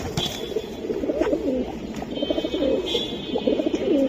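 Silver Giribaz pigeons cooing steadily, a dense, continuous chorus of low throaty coos from several birds close by, with no talk over it.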